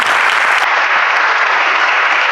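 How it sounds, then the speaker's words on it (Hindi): Audience at a church program breaking into loud, dense applause, a sustained wash of many hands clapping close by with no pauses. "एक दफ़ा फिर से हम सब जोरदार तालियां"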